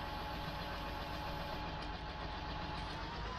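A tractor engine idles steadily in a Farming Simulator game, a low continuous rumble with an even drone and no change in pace or talk over it.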